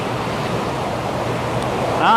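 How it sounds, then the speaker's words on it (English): A flooded river in Ystrad, Wales, rages past near the old Brookhouse Mill as a steady, dense roar of rushing water that fills the whole clip, with a brief voice-like sound rising near the end. "And the river still rages."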